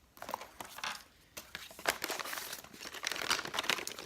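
A plastic bag from a subscription beauty box crinkles and rustles as hands handle it, in quiet irregular bursts of crackling that grow busier toward the end.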